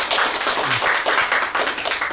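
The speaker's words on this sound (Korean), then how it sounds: "대승리하신 우리 천지인 참 부모님께 각 가정에서 한번 큰 박수 부탁드리겠습니다" A congregation at a university church worship service breaks into applause, a brisk, dense patter of clapping hands at fairly loud level, sustained through the short stretch.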